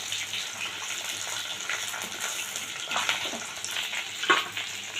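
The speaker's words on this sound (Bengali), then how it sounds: "দেখো দেখো তোমরা মাছের মাথাটা খুব সুন্দরভাবে ভাজা হয়ে গেছে" A fish head fries in a pan of oil, giving a loud, even sizzle with crackling pops and a few stirring scrapes near the end, and no one speaks.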